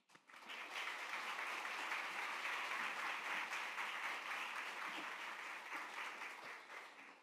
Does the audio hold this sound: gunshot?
no